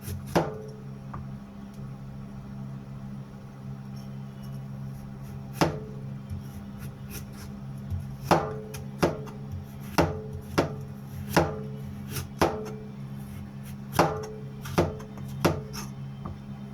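A knife thinly slices an ingredient into rings on a cutting board, giving sharp, close chopping taps, sparse at first and then in a quicker, fairly regular rhythm over a low steady hum.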